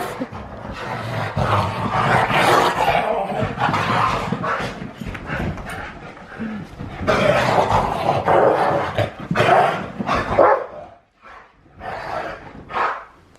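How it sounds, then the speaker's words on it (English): A senior dog barks and growls excitedly in repeated bursts, close and loud, amid scuffling and movement noise. "Our senior dog here, Ash."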